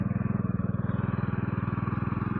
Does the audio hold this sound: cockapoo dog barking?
no